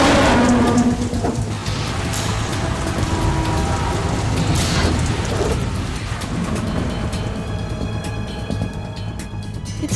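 Steady rain in Metal Gear Solid 2 Substance, a dense hiss of falling water with a deep rumbling undertone, continuous and fairly loud with no voices.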